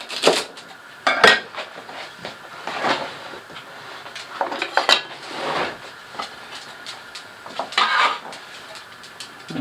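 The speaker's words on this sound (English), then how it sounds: "I'll cut that small chunks, about 1-inch chunks" Knife chopping celery into one-inch chunks on a cutting board, heard as sharp, uneven knocks and clatters at close range with no talk.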